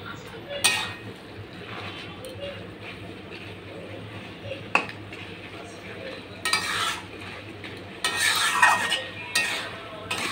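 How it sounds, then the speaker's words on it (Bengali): Food cooked down with spices in a pan is stirred vigorously, with scraping and clinking of utensil against metal and short bursts of sizzling in a home kitchen. "এইটাকে সব মশলা দিয়ে এরপর আমি কষিয়ে নেবো ভালো করে।"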